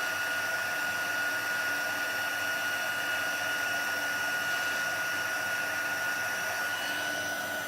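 An embossing heat tool blows hot air to melt embossing powder on a handmade card. It makes a steady, loud fan hum with a high whine that runs unbroken for nearly eight seconds, with no speech over it.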